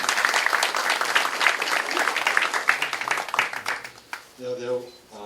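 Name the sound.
applause for a speaker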